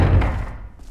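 A door swings open in the video game Project Zero 2, giving a heavy, booming low thump that rolls and fades over about a second.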